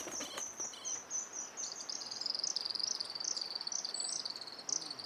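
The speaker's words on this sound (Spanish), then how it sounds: "Ese es un fiofío. Dicen fiofío silbón." Whistled calls of a white-crested elaenia in the forest of Nahuel Huapi National Park, Patagonia, a series of thin high notes repeating over a steady background hum of insects, heard at moderate distance with no talking.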